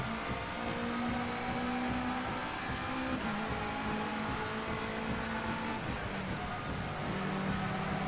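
A race car in Project Cars 2 runs hard on a slippery track, its engine a sustained droning tone that climbs and dips in pitch as it accelerates, steady and moderately quiet throughout.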